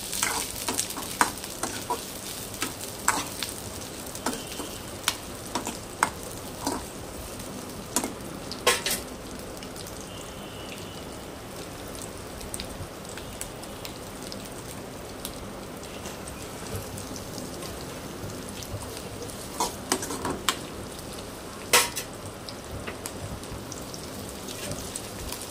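Onions frying in a pan while they are stirred, giving a steady soft sizzle with scattered scraping and clinking from the stirring.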